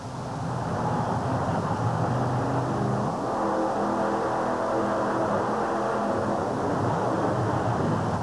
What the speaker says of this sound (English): Not the most violent of starting line launches, certainly plenty of air over the cars.